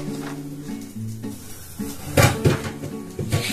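Lentil dumplings (bori) dry-roasting in an empty wok, with light scraping and a few sharper clatters toward the end as the pieces are stirred and knocked against the metal.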